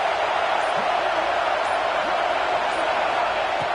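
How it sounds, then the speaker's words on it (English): Stadium crowd in College Football 26 with a visiting team in a tough environment, a dense, continuous roar of thousands of fans that fills the whole moment at steady loudness with no letup. "Listen to the crowd energy here in the early going."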